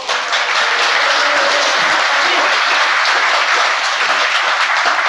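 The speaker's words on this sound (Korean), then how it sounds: "박수 친다고 당선이 되진 않아요." A live audience at a Korean political talk show bursts into loud, sustained applause. The clapping is dense and continuous with no speech over it.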